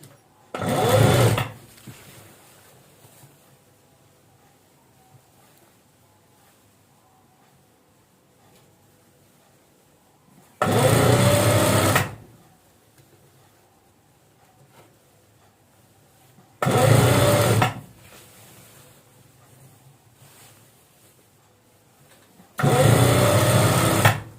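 A sewing machine stitches fabric for a designer maxi dress with beadwork, running in four short loud bursts separated by long quiet pauses.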